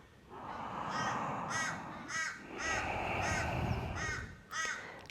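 Crows caw repeatedly outdoors, about seven harsh calls at a steady, unhurried pace over a low background hiss, moderately distant and fairly quiet.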